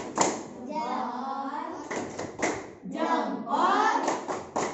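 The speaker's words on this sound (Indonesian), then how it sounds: "Tepuk salut untuk Dita. Tepuk salut." A group of schoolchildren chants a tepuk salut clapping routine in a classroom, with sung voices carrying the rhythm and a few sharp hand claps near the start and scattered through the chant.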